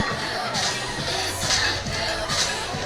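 A high school football crowd and student section make a continuous murmur of voices and shuffling, with faint cheering swells rising now and then, heard at some distance under the open-air noise.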